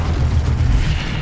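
A loud, dense burst of fire magic from the Incendio spell in Hogwarts Legacy, a sustained roaring whoosh with heavy low rumble that fills the whole moment without pause.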